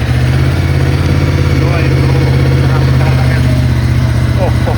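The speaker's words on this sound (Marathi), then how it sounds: "इतक्या दिवसात गाडी चालू केली आपण" A Ducati Multistrada motorcycle engine idles steadily after being started for the first time in months, a constant close low rumble running without pause.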